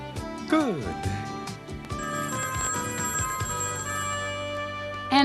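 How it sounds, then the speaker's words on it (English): A telephone rings with a steady electronic trill layered over background music and voices, the ring sustaining clearly in the foreground before a spoken greeting. "And our telephone rings too."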